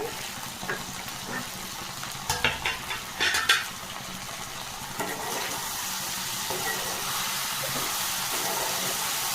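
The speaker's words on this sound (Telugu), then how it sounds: "ఇలా కలుపుకుంటూ మధ్య మధ్యలో ఫ్రై అయ్యే వరకు చూసుకోవాలి" Steady frying sizzle from a pan of okra, broken by a few clattering scrapes of a spoon stirring, then settling back into an even hiss.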